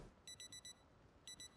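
A digital alarm clock rings inside the survival video game Winter Arrives, giving two short bursts of rapid electronic beeps, four pulses then two, clear and alone over a quiet background.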